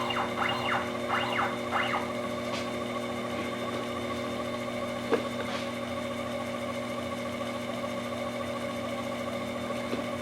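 A lathe reams a Pyrex glass test tube at slow speed with cutting fluid, giving a steady motor hum with faint scraping chirps near the start and a single small click midway.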